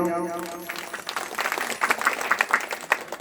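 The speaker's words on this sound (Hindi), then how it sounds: "जोरदार ताली बजाओ" An audience at a devotional katha gathering breaks into applause after a voice fades at the start. The clapping builds into a loud, uneven patter of many hands.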